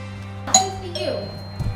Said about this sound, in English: There's the famous doorbell from episode 2.